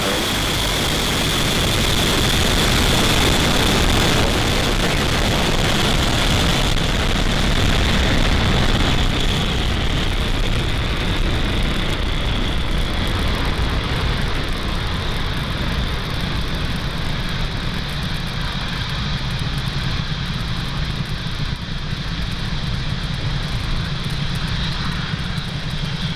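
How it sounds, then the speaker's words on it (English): SpaceX rocket lifting off carrying Starlink satellites, a loud, continuous roar of engine noise that stays dense and powerful throughout, slowly easing as the vehicle climbs away; no talking. "Liftoff. Vehicle is pushing downrange."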